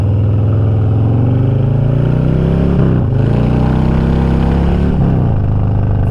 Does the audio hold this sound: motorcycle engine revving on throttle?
yes